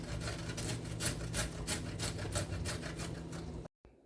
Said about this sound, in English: I'm going to take these little carrots and I'm going to grate them right into the bowl.